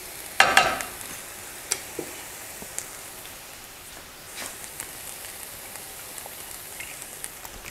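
Kale and onions with a splash of lemon juice and soy sauce sizzle in a pan, a soft steady crackle with a few sharp clinks of utensils, close and without talk.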